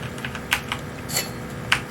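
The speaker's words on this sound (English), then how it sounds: "You can still use the keyboard to switch weapons," Computer keyboard keys tapped while playing a PC game streamed through Steam Link on a Raspberry Pi 4, a handful of sparse, close clicks with short gaps between them.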